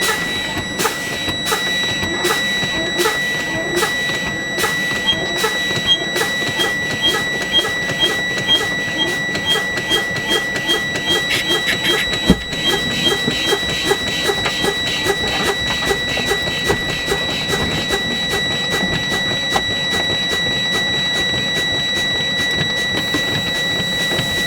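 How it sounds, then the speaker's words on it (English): Truck air brake system being pumped down in the cab, a steady rapid mechanical clicking and hissing pulse throughout, with a sharp pop near the middle as the red and yellow valves release at low pressure. "both my red and my yellow valve should pop out when I reach critical level"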